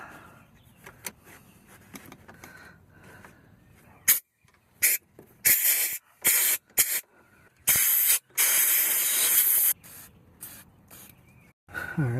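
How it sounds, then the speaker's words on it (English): Several bursts of contact cleaner spray hissing loudly into a Porsche ignition, some quick and some held for a second or two, separated by quiet gaps and faint clicks. "spraying my contact cleaner"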